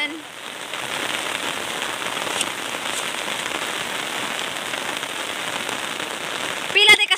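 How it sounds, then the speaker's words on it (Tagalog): Heavy rain pours down steadily, a dense continuous hiss of drops drumming on surfaces near a riverside, with a brief louder rattle and a short voice near the end. "ang lakas talaga ng ulan."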